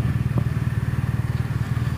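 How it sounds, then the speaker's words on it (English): A BMW R NineT motorcycle with its stock exhaust idles and burbles at low revs, a steady, rhythmic pulsing thump with a gruff low-end snarl, close and alone without talk. "I don't know what BMW is doing to get a stock exhaust to sound this good"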